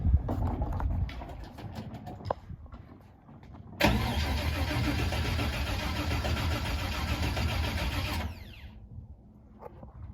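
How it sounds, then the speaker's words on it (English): A Nissan 350Z drift car with a swapped LS V8 engine cranks and catches, running steadily for several seconds before cutting off, with birds chirping faintly in the background. "Sounds like an engine."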